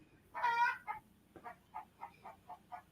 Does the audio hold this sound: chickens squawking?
yes